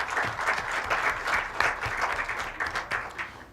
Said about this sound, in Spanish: yo le pido un aplauso para los colegas dominicanos que nos acompañan